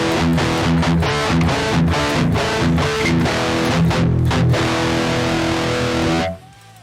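An electric guitar tone-matched on a Fractal Audio Axe-Fx III plays a steady run of distorted, chugging palm-muted notes and chords, loud and continuous for about six seconds before cutting off abruptly into quiet.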